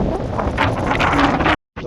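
Strong wind at sea buffeting a microphone on a fishing boat, a loud rough continuous roar that cuts out briefly near the end before resuming.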